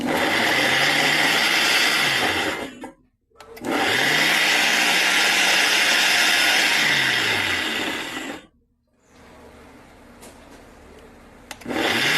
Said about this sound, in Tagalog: Blender na po natin.